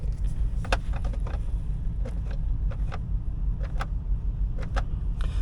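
A 2006 GMC Yukon Denali with the 6.0L LQ4 V8 idles steadily at close range, a low even rumble with occasional light clicks and rattles over it.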